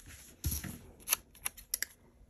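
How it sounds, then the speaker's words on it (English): Scissors cutting paper while making a small habit tracker for a Happy Planner: a soft rustle of handled paper, then several crisp, close snips spaced unevenly over a couple of seconds. "Let me see my scissors."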